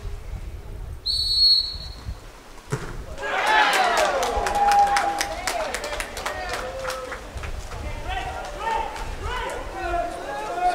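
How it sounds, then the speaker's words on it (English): Referee whistle at a college water polo match in an indoor pool, one sharp, clear blast early on, then crowd noise and splashing swell while a commentator talks over the action. "Whistle blowing."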